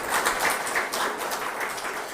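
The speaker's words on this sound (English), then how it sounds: "Let's make this a significant day with a huge round of applause." Applause from a technical summit audience, a steady wash of many hands clapping that holds at an even level throughout, with no voices on top.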